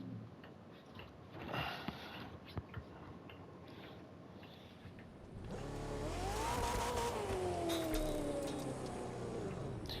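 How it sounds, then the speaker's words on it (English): A hypercar engine in The Crew 2 racing game revs up partway through, a rising then sustained whine over a low rumble after a quieter stretch, fairly faint overall. "it's a highway run, which is where I like to really test out newer hypercars"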